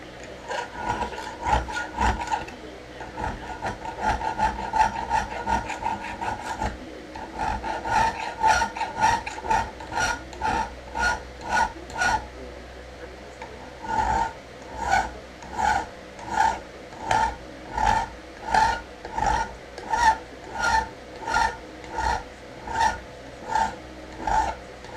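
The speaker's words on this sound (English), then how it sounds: "Take a round file," A round chainsaw file rasps against a straight razor blank clamped in a vise, steady repeated strokes that grow into an even, rhythmic back-and-forth scraping, close and moderately loud with no talk.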